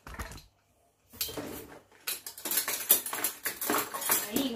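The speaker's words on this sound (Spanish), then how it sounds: "vamos a servir los platos" Plates, cutlery and dishes clatter close by as food is served, a quick clink, a brief silence, then a busy run of scrapes and metallic taps.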